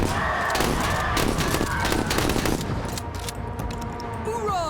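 Rapid gunfire rings out at enemy units in a video game, dense repeated shots in a loud, sustained fusillade with a voice talking underneath.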